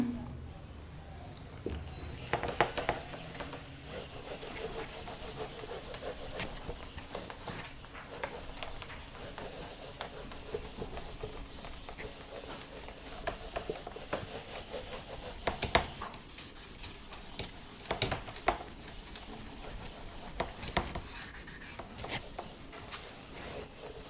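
Rubbing an insulating object such as plastic or wood to charge it, a steady dry scraping and rasping that runs through the whole stretch at moderate level, with faint speech in the background.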